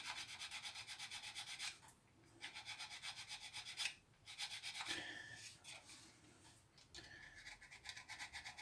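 Hand sanding of a small plastic part for a Mitsubishi Zero scale model airplane, a steady close rhythmic rubbing in quick back-and-forth strokes with a couple of brief pauses.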